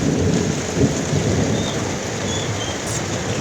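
Heavy rain pours steadily in a dense roar during a sudden downpour, with a deep rumble of thunder running beneath it throughout and lightning in the storm.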